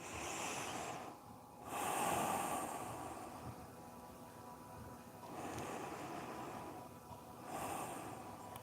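Slow nasal inhales and exhales during a yoga stretching session, several long airy breaths in a steady rhythm, close and soft, with no talking.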